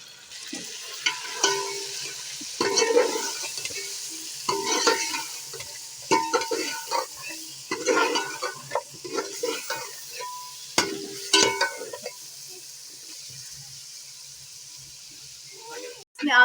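Red chili, salt, turmeric and ground coriander sizzle in a pan while a spoon scrapes and stirs in short irregular bursts, with someone talking over the cooking.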